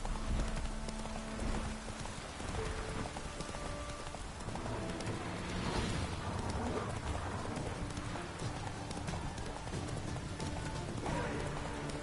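A horse gallops in The Witcher 3 video game, a steady rapid clip-clop of hooves running on throughout, with a rain-like wash of ambient noise and a faint whinny, no talk over it.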